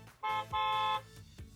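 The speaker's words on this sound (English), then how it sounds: "Truck." A truck horn from a Paw Patrol sound book plays as two electronic honks, a short one and then a longer held blast, close and clear with no talking.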